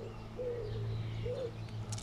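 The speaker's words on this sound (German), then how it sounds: "Ihr hört hoffentlich auch Vögel." Birds call outdoors in a garden, with soft dove-like coos rising twice over a steady low background hum and no speech.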